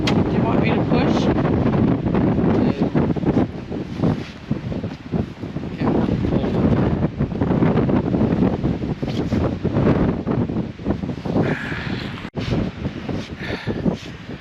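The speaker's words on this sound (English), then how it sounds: "The wind is blowing 30 knots" Strong 30-knot wind blows around a boat off Newfoundland, Canada, a loud continuous roaring buffet against the microphone with gusty surges and occasional faint voices.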